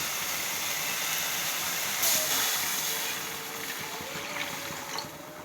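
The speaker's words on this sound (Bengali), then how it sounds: "এবার আমি জল দিয়ে দেবো" Water poured into a pan of fried onion, ginger and garlic spice paste for fish curry, a loud steady hiss and sizzle that swells sharply then settles into softer bubbling.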